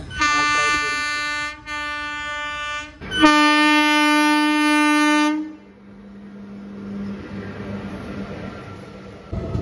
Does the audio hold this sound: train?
yes